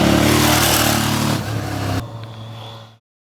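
An Aprilia Shiver 750 naked middleweight motorcycle engine revs loud and close, its steady tone holding, then dropping away before cutting out to silence.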